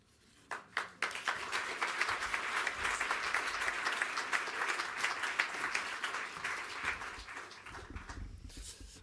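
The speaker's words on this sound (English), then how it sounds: "The crowd here in Abu Dhabi 2020 are going wild." A crowd at a 100-metre final in Abu Dhabi applauding, dense rapid clapping that swells after a few sharp initial claps and holds steady, with faint cheering mixed in.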